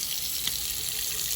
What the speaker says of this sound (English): Let's check out the sink.